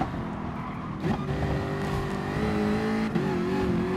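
A Jaguar F-Type Group 4 race car at Spa-Francorchamps in a GT Sport daily race, its engine droning loud and close, rising through revs with tire squeal and skidding breaking in, shifts audible along the way.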